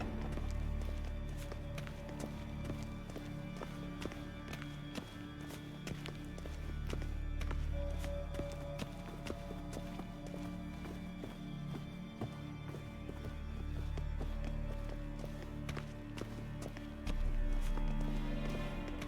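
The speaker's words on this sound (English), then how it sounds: "Footsteps." Footsteps in The Witcher: Wild Hunt, a steady patter of steps over a dense bed of game music and ambience, with no speech.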